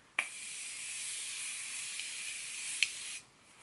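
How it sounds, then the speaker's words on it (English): Morphe continuous setting spray releases one long, steady mist of hiss lasting about three seconds, with sharp clicks where the nozzle is pressed at the start and again near the end, close to the microphone and with no talking. "Love this continuous setting spray."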